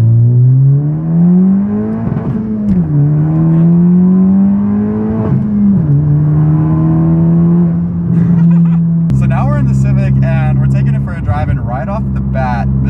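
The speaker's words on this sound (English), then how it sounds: "let's just go ahead and take it for a drive and see how it feels" Modified big-turbo Honda Civic Si engine heard from inside the car while driving, a loud droning hum rising and falling through the revs, with a gear change and turbo whoosh partway through.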